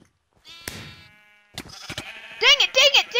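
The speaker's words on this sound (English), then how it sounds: "Let's go capture some blue sheep." Blocky Minecraft sheep bleat in quick wavering cries near the end, amid clicks and game effects, with a voice talking over the first part.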